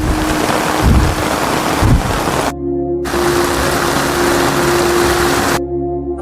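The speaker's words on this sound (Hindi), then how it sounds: "बहुत जोरदार बारिश शुरू हो गई है" Heavy monsoon rain pours along the Neelkanth Mahadev footpath from Haridwar, a loud, steady wash of hiss that fills the whole stretch with a faint tonal hum underneath and no voices.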